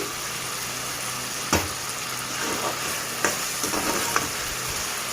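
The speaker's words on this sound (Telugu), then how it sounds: "వేగాలి బాగా, ఎందుకంటే ఇంకా ఏమన్నా తేమ ఉంటే వెళ్ళిపోతుంది." Chicken liver for a Telugu-style chilli liver fry sizzles steadily in hot oil, with a few sharp clinks and scrapes from stirring breaking through the close, constant frying hiss.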